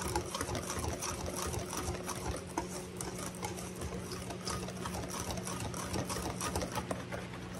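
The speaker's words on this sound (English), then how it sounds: "we're going to take our whisk and kind of just whisk these dry ingredients together a little bit" Dry ingredients for strawberry banana nut bread being whisked together in a bowl, a continuous close, rapid scratchy rattle with no talking over it.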